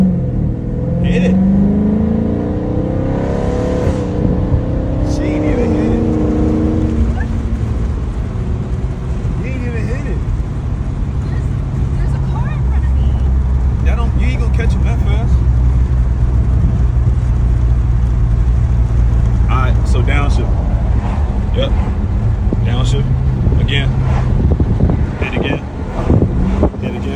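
A 500-horsepower Dodge Charger Scat Pack accelerates hard on a bumpy road, its engine roaring loudly through gear changes amid heavy wind rush, with voices talking over it throughout.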